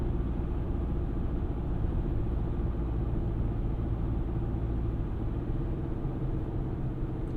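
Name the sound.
2023 Chevrolet Colorado WT pickup engine accelerating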